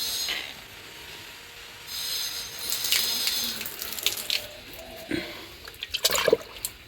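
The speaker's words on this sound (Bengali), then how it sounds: "গাছের গোড়ায় জল দিয়ে নিই" Water poured at the base of a potted plant, a steady close splashing and trickling that swells and gurgles as it soaks in, with a few sharper splashes toward the end.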